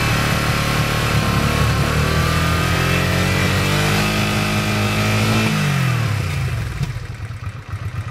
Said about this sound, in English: let's see if we can give it some throttle and see how it does now